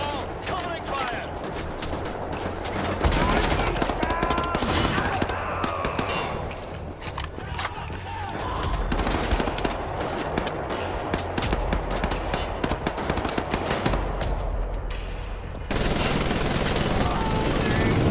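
Sustained machine-gun fire in the shooter Wolfenstein: The New Order, a dense and loud rattle that keeps going throughout, with voices calling out over the battle.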